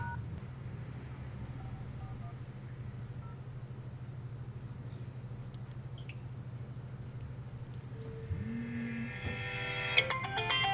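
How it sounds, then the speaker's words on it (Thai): A mobile phone placing a test call on a SIM, with a steady low hum throughout, then a short tone and a cluster of dialing beeps near the end. "เดี๋ยวผมจะลองโทรเข้าดู"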